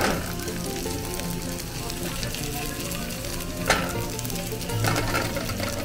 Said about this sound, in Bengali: এই প্যানটাতে অল্প মতো সাদা তেল দিয়েছি আর পুরো সতে করে নেব